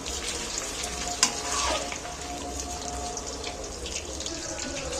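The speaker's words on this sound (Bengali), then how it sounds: "ভাজতে হবে এটাকে" Marinated chicken pieces fry in oil in a pan over a low gas flame, a steady dense sizzle throughout with one brief clatter early on.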